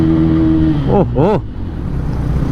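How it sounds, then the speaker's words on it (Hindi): A Bajaj Pulsar P150 motorcycle with a short KTM-style exhaust gives a deep, bass-heavy note, idling steadily and then blipped twice in quick rising-and-falling revs, close and loud, with a brief exclamation from a voice. "एक छोटा सा KTM जैसा एक एग्जॉस्ट है, और जो ये एग्जॉस्ट जो साउंड प्रोड्यूस करता है, एक बहुत ही बेस नोट है उसमें"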